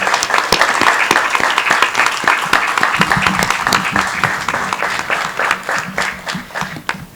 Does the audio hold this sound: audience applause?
yes